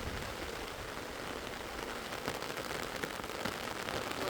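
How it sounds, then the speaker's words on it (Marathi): Heavy rain pours down in Chhatrapati Sambhajinagar district, a dense, steady hiss of drops striking surfaces, continuous and fairly close with no voices. "छत्रपती संभाजीनगर जिल्ह्यामध्ये जोरदार पाऊस पडत आहे"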